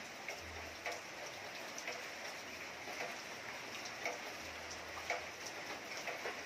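Rain falls steadily as a faint, even wash of patter with scattered ticking drops, continuous throughout with a low rumble in the background.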